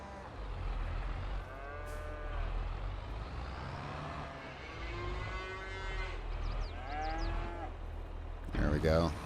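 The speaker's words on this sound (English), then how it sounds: "Let's get some to these cows over here." Cattle mooing in the farming game Farming Simulator 22, several drawn-out, overlapping lows from a nearby herd in steady succession, over a constant low engine rumble with a brief clatter at the end.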